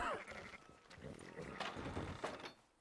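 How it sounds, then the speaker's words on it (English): Several sheep bleat close by in short, wavering calls in Red Dead Redemption 2, mixed with other farm animal sounds and faint background voices. "Fine sheep."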